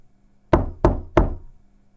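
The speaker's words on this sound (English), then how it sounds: "He knocks on apartment" Three firm, evenly spaced knocks on an apartment door in a crowded building with thin walls, close and hollow, each ringing briefly before fading into quiet.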